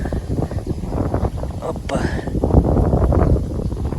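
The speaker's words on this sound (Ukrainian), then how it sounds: "Дуже сильний вітер." Strong wind buffets the microphone in a steady low roar, with a man's short exclamation and talk over it.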